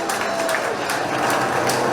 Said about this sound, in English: let's give Ed Braunstein a real big round of applause